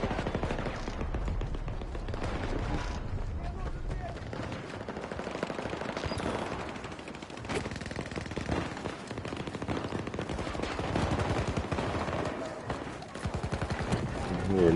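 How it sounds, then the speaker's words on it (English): Video game firefight with sustained machine-gun fire and rapid gunshots, loud and nearly continuous, punctuated by heavier bursts, with occasional game voices underneath. "Major gun shooting down here."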